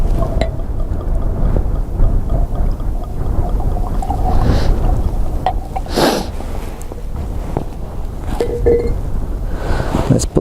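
Wind blowing outdoors on a hilltop, a constant low rumbling buffet across the mic, with a few brief clinks and rustles on top.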